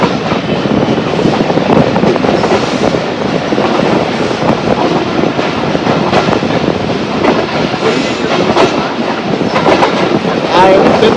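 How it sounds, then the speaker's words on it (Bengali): Joydebpur commuter train running out of Dhaka, a loud continuous rumble and rattle of the carriages with steady rolling noise throughout, heard from on board. "আমাদের ট্রেন এখন জয়দেবপুরের দিকে অগ্রসর হয়েছে"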